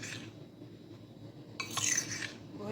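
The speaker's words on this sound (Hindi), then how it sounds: "अब हम इसको अच्छी तरह मिक्स कर लेंगे।" A spoon stirs coating batter with black pepper in a bowl, giving soft scraping with a brief brighter clink of metal against the bowl near the end, faint and close.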